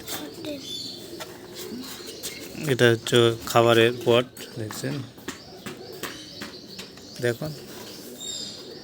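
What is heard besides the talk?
pet doves cooing in a cage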